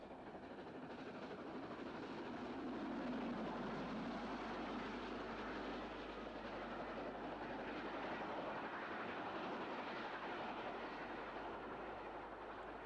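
A train rumbles past on the Farnham to Alton line in 1990, a continuous broad roar with faint clickety-clack that swells slightly midway and holds steady throughout, with no voices.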